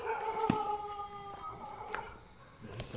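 Village dog at night letting out a drawn-out howl, fairly faint and at a distance, with a couple of short barks and a quiet background.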